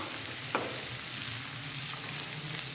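Onion, carrot and capsicum shallow-frying in a pan for vegetable chowmein make a continuous, even sizzle up close, with one faint utensil tap early on and no voices.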